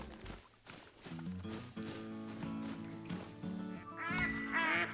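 Ducks quack repeatedly in the hunting video game TheHunter: Call of the Wild, a flock calling close and loud over a steady game soundscape, growing busier toward the end.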